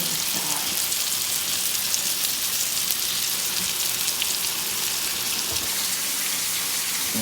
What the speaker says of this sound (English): we're just sauteing it in some butter and some oil